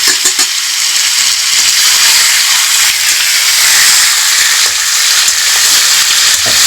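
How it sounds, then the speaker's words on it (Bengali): Meat being sautéed in a pan at an outdoor picnic, giving a loud, steady hissing sizzle with bursts of steam and occasional stirring noises, no talking. "এখন মাংস কষা হবে।"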